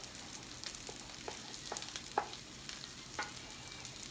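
Eggs for fried rice are scrambled and fried in a pan, giving a soft steady sizzle broken by a series of quiet scraping stirs and light taps of a spatula.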